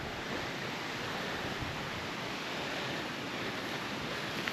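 A river waterfall pours in a steady, loud broadband roar that stays constant and close throughout, with no voices.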